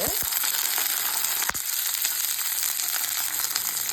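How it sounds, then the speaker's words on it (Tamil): Shishito peppers frying in oil with ginger and garlic, a loud, steady close sizzle with a few knocks and pops as the pan is stirred. "இந்த ஜிஞ்சர் கார்லிக் அது ஃப்ரை ஆகும்போது இந்த பெப்பர்ஸ் இருக்குது இல்லைங்களா, அது அப்படியே ஆட் பண்ண வேண்டியதான்."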